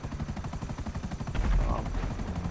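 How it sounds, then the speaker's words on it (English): A Buzzard attack helicopter in a video game thrums with a fast, steady rotor chop that grows louder and heavier about halfway through, with no talking heard. "This helicopter is a buzzard chopper, and it's able to fire missiles."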